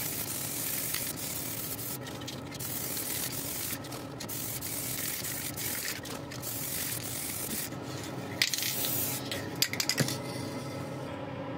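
Continuous hissing of brass-coloured spray paint from a nearby can, broken by short pauses between passes, with a few faint clicks toward the end.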